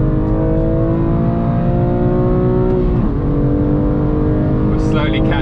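A BMW M2 Competition on a race track at full throttle near 140 mph, its engine a loud, steady, high-pitched drone heard from inside the cabin, with a brief dip in pitch mid-run as it shifts, continuing strongly.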